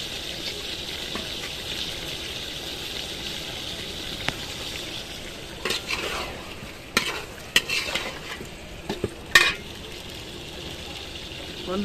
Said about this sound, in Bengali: মাংসটা কষে নিয়ে গেছে